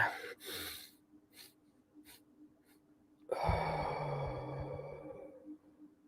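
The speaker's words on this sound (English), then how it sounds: "we're going to breathe from the nose, exhale through the mouth" Slow breathing exercise: quiet puffs of breath, then a long, soft exhale through the mouth, close and alone, following an inhale through the nose.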